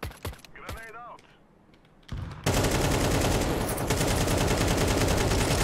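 Rapid loud gunfire in Counter-Strike 2, a sustained burst of automatic shots that erupts after a quiet stretch with faint clicks and a brief voice, then holds at full level to the end.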